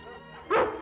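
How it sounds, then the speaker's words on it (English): Cartoon dog giving a single short bark, sudden and fairly close after a quiet background with a faint musical hum underneath. "I found a dog"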